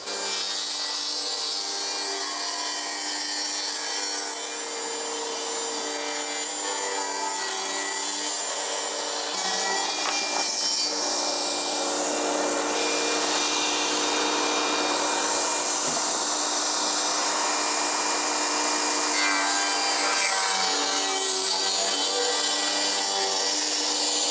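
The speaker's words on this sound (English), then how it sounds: "we're going to make those smaller by ripping an inch off of them on the table saw" A table saw rips an inch off wooden beams, giving a steady, loud continuous whine and cutting roar that holds for the whole stretch with slight changes in load as the wood feeds through.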